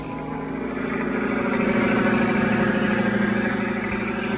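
A helicopter engine throbs steadily and loudly on its own throughout a radio drama, with a dense, even drone from start to finish.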